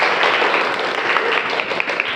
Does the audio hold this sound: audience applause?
yes